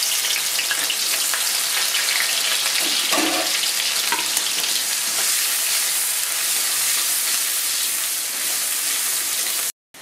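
Onions frying in hot oil in a wok, a loud, even, hissing sizzle with a few faint knocks, close and continuous until it cuts off just before the end, no talking.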